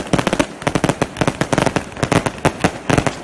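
Rapid bursts of fireworks salute explosions crackle in an irregular volley in Yekaterinburg, loud and close, with sharp pops following one another without pause.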